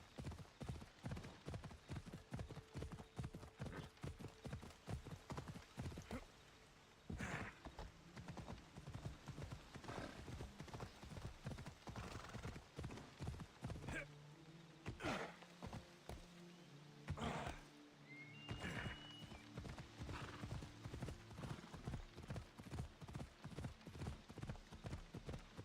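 A horse's hooves clip-clop steadily in the video game Assassin's Creed Odyssey, a fast, regular, close rhythm of hoofbeats that briefly breaks off and resumes, with a short neigh and faint background game sounds.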